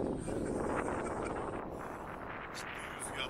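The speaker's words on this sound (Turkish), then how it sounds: "ciddi rüzgar var" Steady, heavy wind buffeting a microphone outdoors on a ferry deck, a constant roaring rush with gusty swells throughout.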